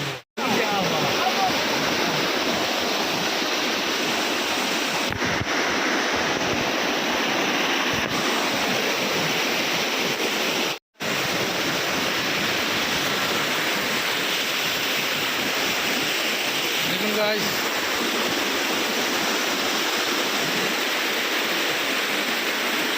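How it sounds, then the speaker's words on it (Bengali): Jungle waterfall on a hillside at Kanching Templer's Park, Selangor, Malaysia, pouring as a loud, steady rushing roar that fills the whole stretch with one momentary dropout, while someone briefly speaks over it. "দেখুন পাহাড়ের ঝর্ণা, এত উপরে সৌন্দর্য"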